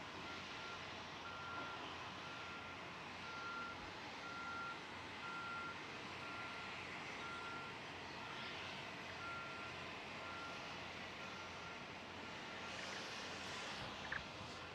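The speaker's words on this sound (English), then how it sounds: "And these LOX trucks come in all day, all night." A LOX delivery truck backs up at a SpaceX methane tank farm, its reversing alarm sounding in steady evenly spaced beeps over a constant broad roar of venting and machinery.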